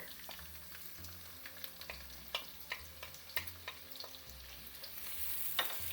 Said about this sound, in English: you fry it just for a few seconds till the rawness goes